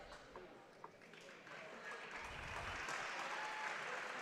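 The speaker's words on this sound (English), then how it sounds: "mainstay offensive players there get a nice round of applause from the crowd" At a women's basketball game, a crowd claps steadily and gradually louder, with a low thud or two and voices mixed in from the gym.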